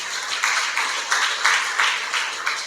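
A church congregation claps together during a Sunday service, with a steady, rhythmic run of collective handclaps that rises and falls in roughly even beats.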